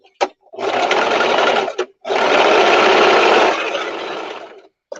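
Sewing machine stitching dark fabric on a simple skirt, loud steady motor whir in two sustained runs of a few seconds each, split by short clicks and a brief stop, close up and with no talk.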